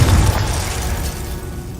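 A Confringo blasting spell goes off in Hogwarts Legacy, giving a loud, close, booming burst that rumbles at full strength for a moment and then slowly fades.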